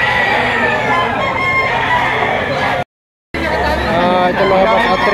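Bull stag gamefowl crowing at a poultry auction in Lipa, repeated loud crows and clucks close by over a busy background of chatter and bidding voices, with a brief cut midway.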